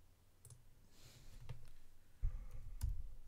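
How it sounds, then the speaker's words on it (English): A computer mouse clicks a few times at a desk while working in Blender 2.76, the sharp taps quiet and spaced out over a low room hum, with two louder clicks near the end. "then what I'm going to do is click here"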